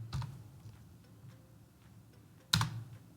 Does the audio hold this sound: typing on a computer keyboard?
yes